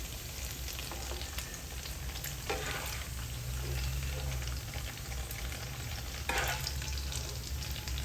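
Vegetable egg rolls (lumpia) frying in oil, a steady crackling sizzle with occasional louder bursts of spattering, close and continuous with no voices.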